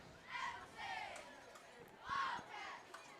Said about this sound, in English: Cheerleaders cheering, doing a great job.